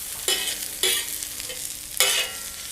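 Cabbage, carrot, green onion and capsicum are stir-fried in a hot pan, with three brisk bursts of sizzling and scraping as the vegetables are tossed. No one speaks.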